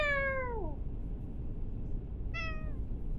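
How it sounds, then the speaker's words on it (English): A cat gives a long, falling meow, then a shorter second meow after a pause, both close and clear over a low background hum. "The cat."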